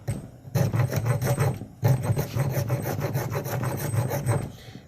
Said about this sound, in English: First thing you want to do is get to the corners here with your rasp, aggressive, and just cut over the corners